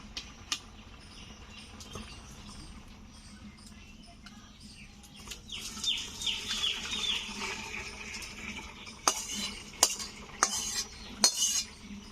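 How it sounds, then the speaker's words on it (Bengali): A metal kadai being washed in a kitchen: a quiet start, then running water with scrubbing, followed by several sharp metallic clinks and knocks near the end, close by. "কড়াইটা ধুয়ে নিচ্ছি।"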